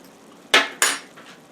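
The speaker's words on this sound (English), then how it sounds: "Stir it around so the cheese can get melted." Two sharp metallic scrapes and clanks of a utensil against a pan while meat and melting cheese are stirred, close and distinct, followed by a fainter third touch.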